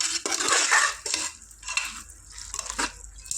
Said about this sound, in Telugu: మసాలా చెంచన్నర వేసిన దీన్ని ఒకసారి ఇలా కలుపుకుందాం